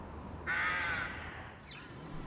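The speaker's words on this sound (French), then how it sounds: "Les freux sont grégaires comme leurs cousines les corneilles." A single harsh, drawn-out caw from a rook, a gregarious crow of urban parks, rings out nearby, then fades into a quiet outdoor background with a faint trailing note.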